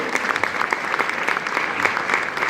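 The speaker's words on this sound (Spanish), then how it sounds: "Denle un aplauso fuerte al Señor si lo cree." Church congregation applauding together, a steady dense wash of clapping that holds at full strength for a couple of seconds with no speech over it.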